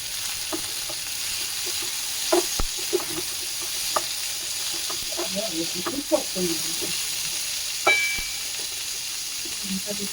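Cauliflower and potatoes fry in a pan after cumin has been toasted, giving a faint continuous sizzle broken by irregular clinks and scrapes of stirring, with brief bits of background voices.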